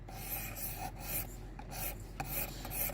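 A knife blade is drawn across a sharpening stone on a Worksharp Precision Adjust in repeated rasping upstrokes, close and steady, with no talking.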